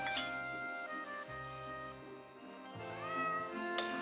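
A cat meows in a dry cat food commercial, heard over bright background music that runs throughout.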